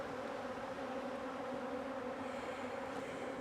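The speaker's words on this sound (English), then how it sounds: "I blow on the bees" Honeybees buzzing in a steady, continuous hum around an open long hive during a late-season inspection, close and even throughout with no voices.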